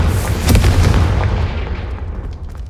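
A Confringo fire spell bursts in the Hogwarts Legacy video game: a loud, heavy explosive boom with a rumbling low end that fades out over about two seconds.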